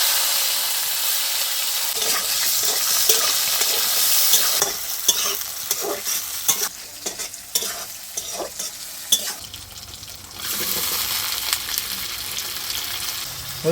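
Chopped onions sizzle and fry in a pan while being stirred, with scraping utensil strokes and a steady hiss that swells and dips across the clip, close and fairly loud, no talking.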